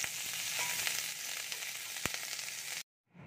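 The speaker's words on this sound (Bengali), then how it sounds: "সয়াবিন আর ক্যাপসিকামটা ভাজা হয়ে গেছে।" Capsicum and soya beans sizzle steadily in hot oil in a pan, a close, even frying hiss with a few brief pops, cutting off abruptly to near silence just before the end.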